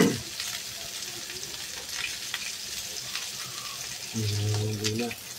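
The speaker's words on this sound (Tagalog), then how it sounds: "Inihaw na bangus." Boneless stuffed milkfish (bangus) on a grill, a soft steady sizzle with a brief louder hum near the end.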